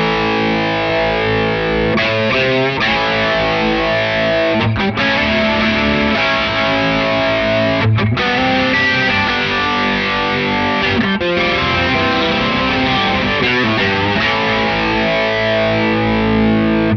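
Electric guitar played through a DOD FX65 chorus pedal set to a slow rate, a continuous distorted, shimmering chordal tone with brief pauses between strums, loud and close with no talking.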